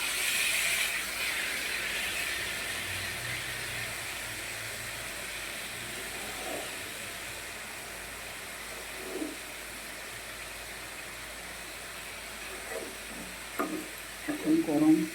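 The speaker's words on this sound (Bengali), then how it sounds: "দিয়ে এটাকে আমি ভালো করে আর একবার কষাবো।" Bottle gourd with turmeric, salt and sugar sautés in a pan, a soft continuous sizzle and hiss with a few stirring knocks toward the end, fairly quiet and steady with no talk over it.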